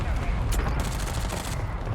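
Rapid gunfire in the Warzone video game from an early-era loadout, dense overlapping shots filling the moment with loud bursts and clicks, close and continuous, with faint voice underneath.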